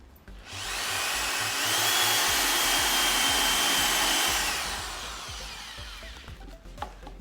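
A power drill bores a hole in wood while a bench is built, whirring loud and steady for several seconds before winding down, followed by faint knocks and handling.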